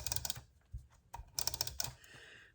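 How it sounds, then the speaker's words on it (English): Tape being applied to scrapbook paper, with quick dry crackles and taps in short bursts separated by pauses, close and fairly quiet with no talk. "And then I'm going to tape it down"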